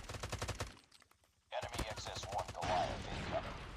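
Gunfire and sniper shots from Call of Duty Mobile gameplay in a tournament match, heard as rapid rhythmic bursts of shots, a short quiet gap, then more dense firing and impacts at close range.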